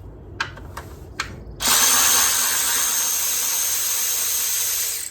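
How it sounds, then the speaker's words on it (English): A power tool, likely a drill or impact driver, loosens a hose clamp on a 2015 Toyota Tacoma during a fuel injector job. A few light clicks come first, then a loud, steady whir runs for about three and a half seconds. "Loosen that hose clamp a little bit."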